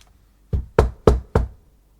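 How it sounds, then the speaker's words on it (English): Four sharp knocks on a door in quick, even succession, loud and close, with silence before and after. "there was a knock on the door"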